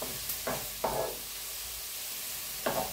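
Chopped onion browning in a pan, a soft steady sizzle with a few short scraping stirs spaced through it, close and quiet, no voices.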